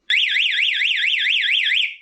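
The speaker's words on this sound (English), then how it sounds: "Third button is panic alarm" A Spy 5000 motorcycle alarm in panic mode lets out a loud, piercing electronic siren that warbles rapidly up and down and keeps a steady pitch-sweeping pattern before cutting off, with no talk.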